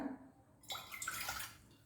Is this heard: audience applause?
no